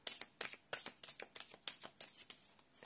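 Tarot cards drawn and handled in a quick series of crisp, close snaps and flicks, about a dozen in an uneven rhythm with no talking.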